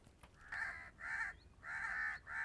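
Crows caw loudly and close by in a rural farmyard, four harsh calls in a steady run, each about half a second long with short gaps between them, and no voices over them.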